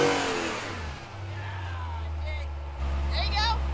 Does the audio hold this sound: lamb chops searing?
no